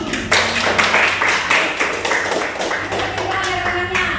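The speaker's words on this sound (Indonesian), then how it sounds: "Oke, tepuk tangan." Classroom hand clapping in a school lesson on writing short stories, a steady patter of many hands clapping together for a few seconds, with a low hum and faint murmuring underneath.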